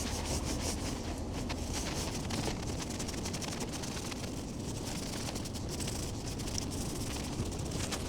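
A brush scrubs a filthy bicycle drivetrain between the cogs in a dense, continuous close-up scratching hiss that holds steady throughout with no speech.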